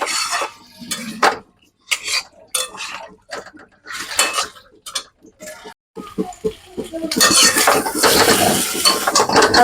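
A spoon clinks and scrapes against a metal pan as fried taro is stirred with spices. The clatter comes in close bursts, and a loud, steady sizzle rises near the end.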